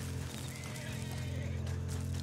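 A horse whinnies in Red Dead Online, a drawn-out neigh over steady low game ambience, with faint hoof clops mixed in and no talk.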